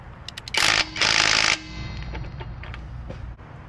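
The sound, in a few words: Hyper Tough 12V impact wrench trying to loosen bolts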